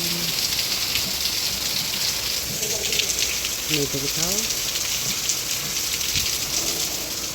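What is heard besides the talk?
heavy rain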